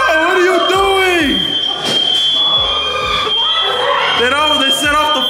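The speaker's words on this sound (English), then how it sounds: "They set off the fire alarm." A fire alarm sounds inside a family home during rowdy Fourth of July fireworks antics, a steady high electronic tone running through the whole stretch beneath loud shouting voices.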